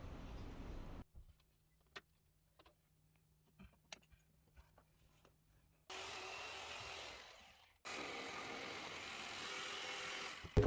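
A drill bores a hole through a wall beside a water pipe during a leak repair that reroutes yellow PPC plumbing. A quiet stretch with a few small clicks gives way to two loud, sustained bursts of drilling close by, separated by a brief pause.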